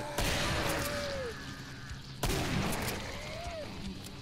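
Shotgun blasts in the video game Killing Floor, two loud sharp reports about two seconds apart over a dense, noisy game backdrop with tonal effects.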